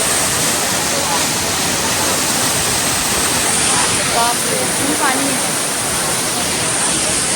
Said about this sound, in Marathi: धबधबा बघा